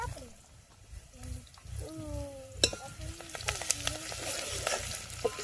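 Garlic and onion sizzle and crackle in a hot pan over an open village fire, with steady frying noise, a few clinks of stirring and voices talking over it.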